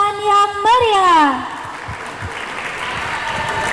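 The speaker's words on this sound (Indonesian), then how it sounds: "Berikan tepuk tangan yang meriah." Clapping from an audience at a pesantren student competition, dense broadband applause rising after a drawn-out voice and then continuing steadily and moderately loud to the end.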